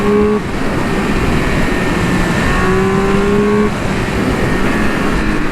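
A Triumph Speed Triple 1200 RR motorcycle revs hard, its loud, close engine note rising and falling steadily as it powers out of corners with no voices.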